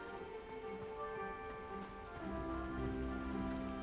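Steady rain pours over the world of the video game Hogwarts Legacy, a dense even patter that holds throughout with a faint tonal music bed beneath, no talking.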